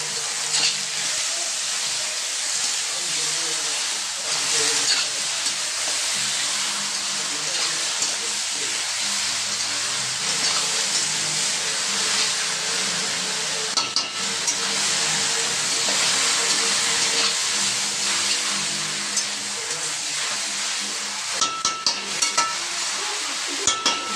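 Mutton pieces fry in a pan, giving a steady close sizzle and hiss with occasional scraping stirs, the frying running continuously throughout.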